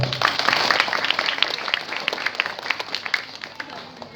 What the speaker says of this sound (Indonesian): Tepuk tangan buat anak-anak kita